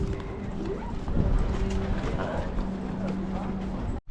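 Horse hooves clip-clop on a path near an old church on the Anglesey coast in Wales, heard steadily under nearby chatter and background noise.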